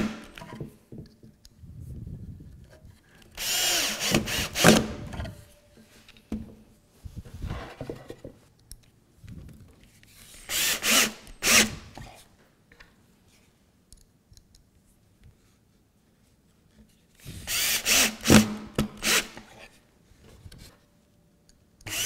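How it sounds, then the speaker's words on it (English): A drill boring pocket screw holes through a pocket hole jig while a mudroom locker is assembled, heard as three separate loud bursts of whirring and grinding with quiet pauses between them. "I'm going to get the pocket hole jig out, and I'm going to put some pocket holes on this and put it together"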